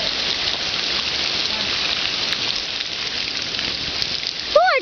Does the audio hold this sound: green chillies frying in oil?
no